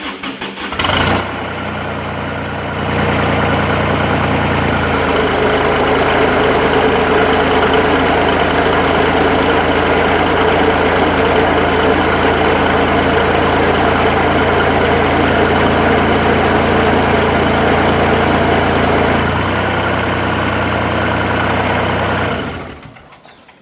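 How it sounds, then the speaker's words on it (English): A two-speed hydraulic winch runs, reeling in line with a steady loud mechanical drone and engine hum that starts abruptly, shifts pitch partway through, then cuts off near the end. "let me go ahead and reel it in a little bit for you to see how it works."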